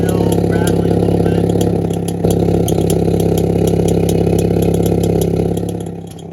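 A Hyundai Veloster N exhaust fitted with a Mopar valve spring idles with a steady drone and a faint, repeated light rattle ticking over it, with a brief dip midway.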